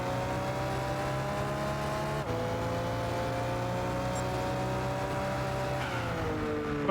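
A sports car's engine in Gran Turismo 6 drones steadily at high revs, with two abrupt gear shifts dropping the pitch, loud and continuous without talk.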